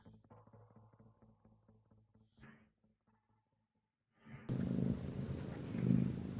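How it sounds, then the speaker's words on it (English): A cat purrs quietly in a low, rhythmic rumble. After a short pause, a loud steady rushing noise takes over. "I hear a cat."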